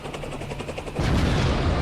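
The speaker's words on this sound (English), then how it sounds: "helicopter you could fly." A flyable helicopter in a Team Fortress 2 community map thumps with a rapid rotor chop, close and loud, swelling into a heavier rumbling roar midway through.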